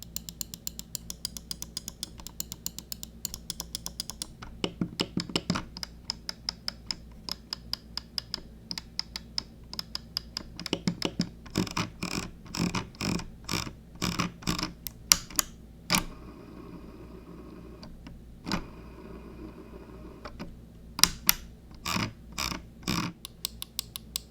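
Crisp, sharp Logitech G502 SE Hero gaming mouse button clicks in irregular bursts, some rapid and clustered, others single, with brief pauses between groups.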